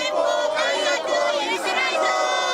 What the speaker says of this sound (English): On a Tokyo street corner under pouring rain, a crowd gathers, holding up drenched posters and flags.